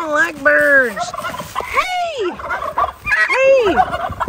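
Turkeys gobbling loudly and close, several rapid warbling bursts in quick succession with short pauses between calls.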